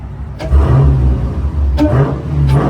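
A Dodge Hellcat's supercharged engine revs hard several times at night by a gas station, loud and close, with bursts of throttle over a steady low rumble and a faint whine under the roar.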